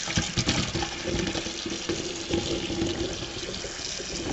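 Tap water runs steadily into a sink as a pot is rinsed out while canning fresh mushrooms, a continuous close gush with faint clatter of the pot.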